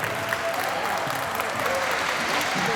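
Audience applauding at an academic excellence award ceremony, a dense steady clapping from a crowd filling the whole stretch, near and even without a break.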